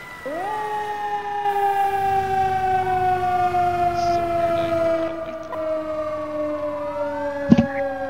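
A fire engine siren from the emergency-response video game EmergeNYC wails steadily and loudly as the engine responds to a call, with layered rising and falling tones sounding on their own and a brief sharp knock near the end.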